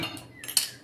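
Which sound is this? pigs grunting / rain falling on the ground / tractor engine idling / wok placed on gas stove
wok placed on gas stove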